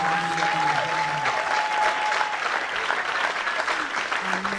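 A church congregation claps in dense, sustained applause. The clapping is fairly loud and continuous, and a few voices rise faintly beneath it.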